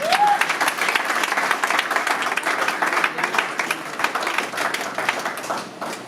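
A church congregation breaks into loud, sustained applause to acclaim the Lord, dense steady clapping filling the room for several seconds with a brief vocal cry at the start.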